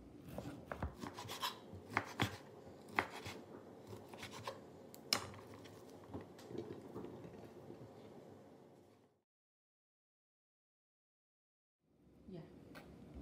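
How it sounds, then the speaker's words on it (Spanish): A knife cuts ham into cubes with irregular taps and scraping against a cutting board, steady then stopping for a few seconds before faint chopping resumes. "Ya estamos también partiendo nuestro jamón, yo lo corto así en cuadritos."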